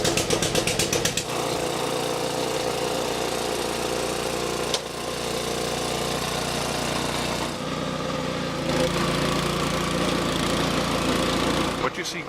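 A lawn aeration machine's engine runs steadily on golf course turfgrass, a continuous mid-pitched drone with a few shifts in load and tone, loud and close throughout.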